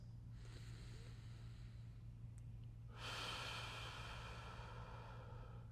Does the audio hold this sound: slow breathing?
yes